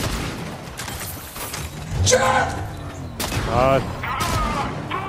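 Bursts of gunfire from AI-controlled enemies in Fortnite crackle in quick volleys under excited, overlapping voices, with a heavier boom near the middle and shots continuing to the end.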